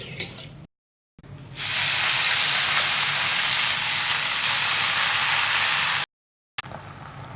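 Cumin seeds and green chillies hit hot oil in a pan and send up a loud, sustained frying hiss and sizzle that holds steady for several seconds before cutting off, with no talking over it.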